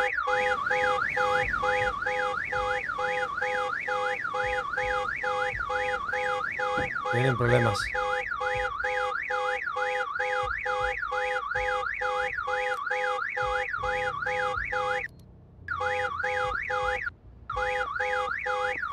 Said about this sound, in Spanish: Yo no puedo callar la alarma